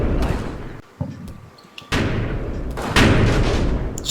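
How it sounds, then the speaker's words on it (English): Mortar fire from a mortar section landing on foxhole positions in a Combat Mission Fortress Italy battle: heavy booming thuds and blasts in several loud bursts with rumbling tails, close and dense with no talking. "Sergeant Vanna's mortar section start putting some mortar fire down on the foxhole positions."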